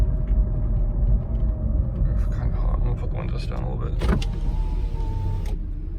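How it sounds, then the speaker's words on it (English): Power windows lowering on a Mercedes SL500 left abandoned for over seven years, a whining electric motor under road rumble from the moving car, with someone speaking nearby. "I'm gonna put the windows down a little bit"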